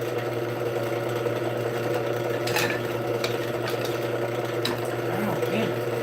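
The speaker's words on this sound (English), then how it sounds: "Sander." In a woodturning workshop a power sander runs steadily, a constant mechanical whir at moderate level with faint clicks and bumps over it, and no break in the motor's drone.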